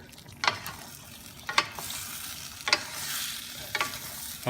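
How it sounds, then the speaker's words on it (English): Pork belly being stirred in a hot pan for Kapampangan pork binagoongan, with four distinct scraping strokes of the utensil over a steady, bright sizzle of frying fat. "let's give it a good stir."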